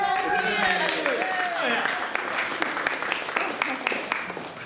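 Audience applause builds into steady clapping, with a voice speaking over the start and cheering mixed in.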